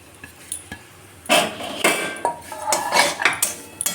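Dry vermicelli tipped into a wok already holding cardamom powder and stirred with a metal spatula: a run of loud scraping and clattering strokes, close and alone after a quiet start.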